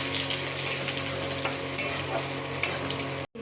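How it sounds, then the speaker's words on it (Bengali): Chopped garlic and ginger fry in hot oil with a dense, steady sizzle, broken by several sharp clinks of a spatula stirring against the pan, close up and without talk, ending abruptly. "আর দিয়ে দেব রসুন আদা কুচিটা। দিয়ে আমি একটু নাড়বো।"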